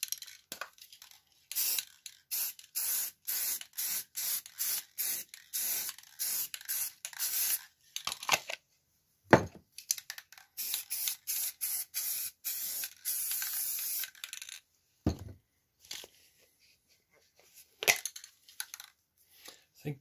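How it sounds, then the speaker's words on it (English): Satin and gloss spray paint from aerosol cans hisses out in many short, close bursts, some brief and some held for a second or more, with scattered pauses between them. "two different kinds of paint being sprayed over each other"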